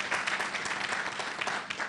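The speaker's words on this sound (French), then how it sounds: "que je vous demande d'applaudir" Audience applause at a panel debate conference on living together in Mali, a brief burst of dense clapping at moderate volume fading slightly at the end.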